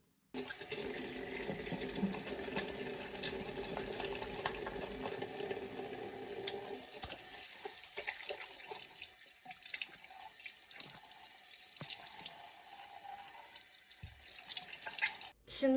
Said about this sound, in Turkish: Onunla da yüzümü yıkıp geliyorum.